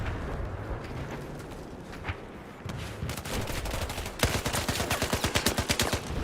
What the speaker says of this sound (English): the big bullets of the M60 still come up with the win